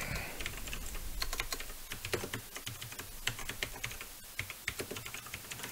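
Steady typing on a computer keyboard while entering lines of program code, with rapid, irregular keystroke clicks running through the whole stretch, close and fairly quiet, with no voices.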